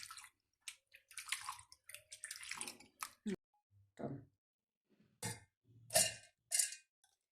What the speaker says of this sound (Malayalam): രാവിലെയായി നമുക്കിനി ആ അരി എടുത്ത് നന്നായിട്ട് മൂന്നാല് പ്രാവശ്യം കഴുകിയെടുക്കാം